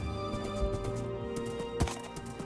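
Horse hoofsteps in Minecraft, a few soft clops over a steady game background, one thud standing out near the end.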